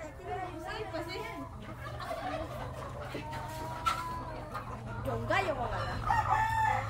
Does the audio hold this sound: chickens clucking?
yes